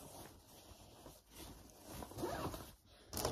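A zipper on a bag is pulled open in several short rasping strokes, close and quiet, with brief pauses and a final quick zip at the end.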